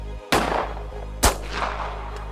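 Two sharp gunshots crack loudly about a second apart, each with a ringing echoing tail, in an Albanian television drama scene.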